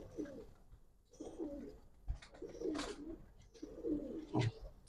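Giribaz pigeons, a Bangladeshi flying breed, coo repeatedly at close range in a steady series of low throaty phrases, with a few sharp knocks and clatters between them.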